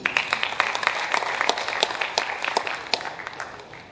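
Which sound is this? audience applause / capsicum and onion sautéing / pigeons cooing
audience applause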